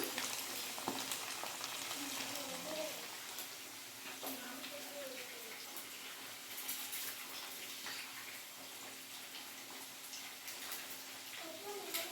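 Flour-coated chicken for chicken manchurian deep fries in a pan of oil, giving a steady, dense crackling sizzle throughout with faint intermittent voices in the background.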